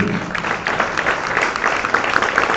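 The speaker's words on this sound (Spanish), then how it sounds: "Dale un aplauso a Él." Church congregation clapping together during a service, a full, steady wash of many hands at fairly close range, sustained without pause for a couple of seconds.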